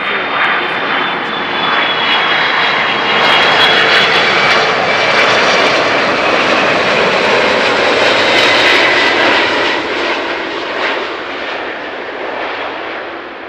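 An Airbus A380 lands at Amsterdam Schiphol Airport, its engines a loud, sustained roar that swells and then slowly fades, with broadband rumble and whine and no speech.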